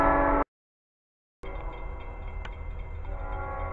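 A passing train rumbles steadily after a brief drop to silence, with a continuous loud roar and faint tonal hints of a horn over the rolling noise.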